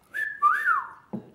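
A person whistles in imitation of a grey shrike-thrush: a short rising note, then a longer swooping whistle that slides down, followed by a brief soft sound at the end, close and fairly quiet.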